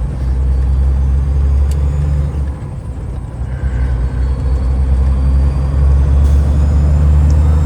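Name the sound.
Argosy cab-over truck driving and shifting gears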